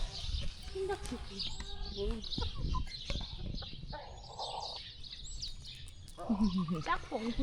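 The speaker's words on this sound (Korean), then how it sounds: "여기 닭이 이렇게 돼 있어" Chickens on a farm beside the Camino de Santiago near Agés, Spain, clucking and calling in short bursts, joined by other farm animals and birds, while people talk nearby.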